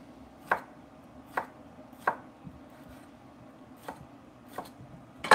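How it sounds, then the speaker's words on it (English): Knife chopping jalapeno peppers on a cutting board, about eight sharp, evenly spaced chops, close and clear against a quiet room. "I need to cut up some jalapenos real quick"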